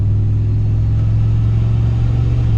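A turbocharged Chevrolet Silverado truck with a 4L80 transmission accelerates steadily, its engine producing a loud, constant low rumble and drone heard close up from inside the cab.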